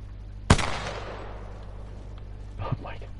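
A single sharp, loud gunshot from the game Apex Legends rings out with a long fading echo tail, followed by quiet background and a brief voice near the end.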